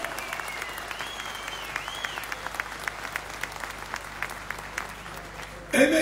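Sustained crowd applause at a covered marketplace opening ceremony in Turkey, a dense steady clapping that carries on for several seconds, with a brief louder swell near the end and some voices mixed in.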